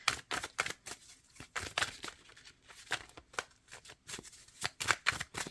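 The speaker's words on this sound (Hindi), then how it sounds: "अब मैं लास्ट 3 कार्ड निकालूंगी।" Tarot cards shuffled and drawn from a deck, quick papery riffles and slaps in irregular bursts, close and quiet with no one talking.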